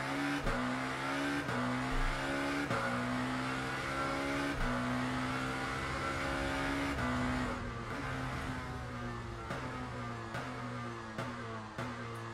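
A hypercar in the Le Mans Ultimate racing game drones through a steady engine note with tires sliding, gear shifts breaking the tone at regular intervals, loud and close with no talking.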